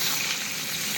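Papaya, potato and masoor dal fry together in a pan, giving an even, close, continuous hiss and sizzle with no breaks or voices over the short stretch.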